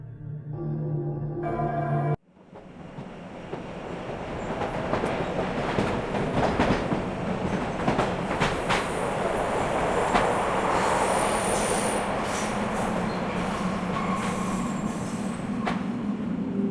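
A train rolls along rails in the video game Art of Murder – FBI Confidential. After a brief different sound, it settles into a loud, continuous rumble with clattering wheels and intermittent metallic squeals.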